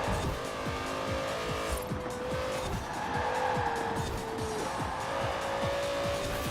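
A Porsche Carrera GT with a naturally aspirated engine, driven in Forza Horizon 4, revs hard through gears while cornering, tires squealing steadily at close range with no talk.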